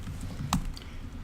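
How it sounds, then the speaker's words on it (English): Computer keyboard typing commands, a short burst of soft key taps with one louder click in the middle. "a lot of these commands that Chase is typing here"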